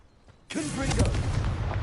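The Confringo blasting spell explodes in Hogwarts Legacy, a sudden loud boom that rolls into a rumbling, crackling blast lasting over a second.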